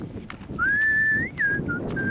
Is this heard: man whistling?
yes